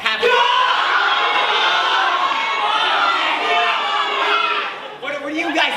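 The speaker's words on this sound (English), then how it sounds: "What are you guys yelling up there?" A live audience at a senior-night improv comedy show yells suggestions all at once, a loud, continuous crowd of overlapping shouts and calls filling the room before a single voice cuts through near the end.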